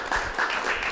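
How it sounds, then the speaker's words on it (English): Audience at a high school event applauding to welcome a judge, a short, steady wash of clapping from a crowd in a room. "Let's give him a round of applause."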